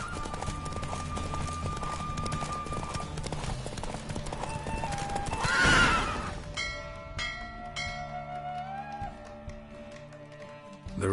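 A horse gallops in a race in the video game The Witcher 3, its hooves drumming a fast, continuous clip-clop, with a brief whinny and a swell of noise midway before the galloping carries on.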